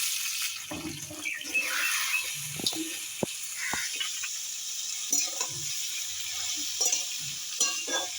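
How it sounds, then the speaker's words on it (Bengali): Washed, cut ash gourd tipped into hot oil and stirred, a light crackling fry with clinks and scrapes of a spatula against the pan, close and fairly quiet. "তেল গরম হয়ে গেছে এবার আমি দিয়ে দেবো চাল কুমড়োটা"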